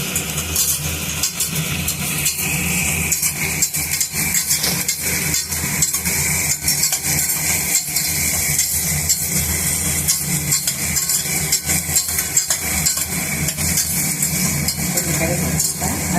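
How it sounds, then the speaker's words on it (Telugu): Green chillies fry in a pan of oil for a ridge gourd and chilli curry cooked with milk, giving a loud, steady sizzle that runs unbroken throughout, with occasional faint stirring clinks. "దాని తర్వాత పచ్చిమిరపకాయలు వేసుకోండి. కొంచెం వేగాలి ఈలోపు."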